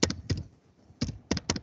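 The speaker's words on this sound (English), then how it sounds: "so I'm typing a username" Quick bursts of typing on a computer keyboard while entering a username in Windows 10, crisp close key taps in small clusters with short pauses between them, no talking.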